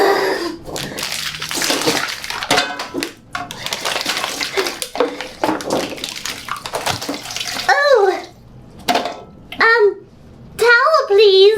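Bottled water is poured in a kitchen cooking setting: a steady splashing stream runs for about seven seconds, then people talk in short phrases.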